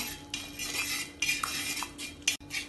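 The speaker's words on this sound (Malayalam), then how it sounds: "ആദ്യം കുറച്ചൊഴിച്ച് നല്ലോണം ഇളക്കി മിക്സ് ചെയ്തതിന് ശേഷം ബാക്കി ഒഴിച്ചു കൊടുക്കാം" A metal spoon stirs semolina into milk in a pot for Malabar thari kanji, with quick scraping and clinking strokes against the vessel, close and clear, with no voices.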